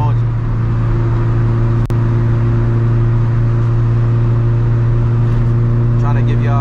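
Engine of a Honda EG hatchback with a B20 engine drones steadily from inside the cabin, a strong low hum holding near-constant pitch with a brief sharp click midway, loud and continuous throughout.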